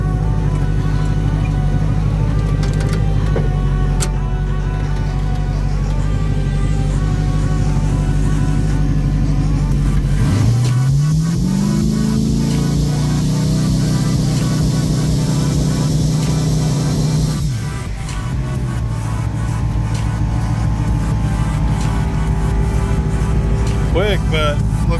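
A turbocharged car idles and then accelerates hard, its engine note climbing steeply before it lifts off and settles back down, heard from inside with talk in the background.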